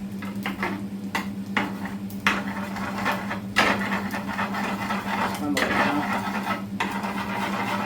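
Egg gets stirred into leftover beef fried rice in a pan, with repeated scraping and knocking of a utensil against the pan over a faint sizzle and a low steady hum.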